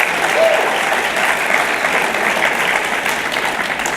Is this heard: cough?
no